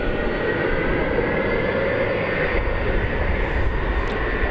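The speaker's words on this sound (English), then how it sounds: "A300 time, this once again is going to Ontario, California." A 20-year-old Airbus A300 jet airliner at DFW Airport gives off a steady, loud engine roar at night that fills the whole stretch without letup.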